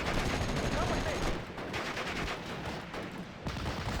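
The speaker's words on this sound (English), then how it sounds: "You guys are crossing an open field in front of a machine gun." Sustained MG34 machine gun fire in the WWII strategy game Steel Division Normandy 44, a dense, loud, unbroken burst of rapid shots that eases slightly partway through.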